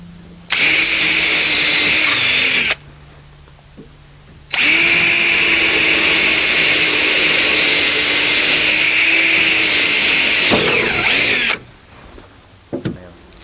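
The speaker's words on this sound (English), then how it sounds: "Make sure when you drill this that you drill straight up and down" A power drill whirs loudly in two long bursts while drilling into a wooden door, pausing briefly between them, followed by a few light knocks.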